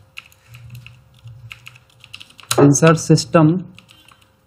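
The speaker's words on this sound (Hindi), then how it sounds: "देखना, मैं कंट्रोल सेमी कॉलन प्रेस करूंगा तो डेट आ जाएगी।" Computer keyboard keys pressed for the Ctrl+semicolon date shortcut in Microsoft Excel: a few soft, close taps, followed by a voice speaking.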